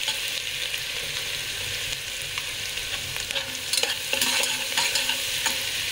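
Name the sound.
ginger garlic green chili paste frying with peanuts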